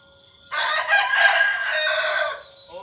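A rooster crows loudly once, a long harsh cock-a-doodle-doo lasting about two seconds, close by, with faint background noise.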